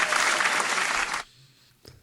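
A small group in a podcast studio applauds for Dave, a dense close clapping burst that cuts off sharply after about a second, leaving near quiet with a brief knock at the end.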